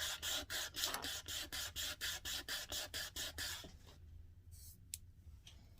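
Rhythmic back-and-forth sanding strokes on a wooden chess piece, about a dozen quick rasping passes close to the microphone, then near quiet with a couple of faint handling noises.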